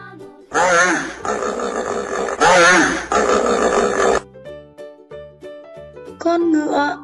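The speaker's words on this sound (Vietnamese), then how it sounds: "Con hà mã." A hippopotamus lets out two long, deep, rumbling grunts back to back, loud and close, followed by light background music with a brief higher note near the end.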